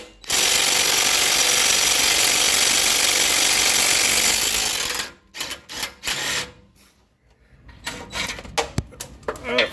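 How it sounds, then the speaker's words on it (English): A 3/8 inch impact wrench with two extensions and a 15 mm socket hammering loose catalytic converter nuts on a 2001 Chevrolet: a loud, continuous rattling burst of about five seconds, then short stuttering bursts and clicks. "I've got 2 extensions on a 3/8 inch impact, and we're gonna see how well that does."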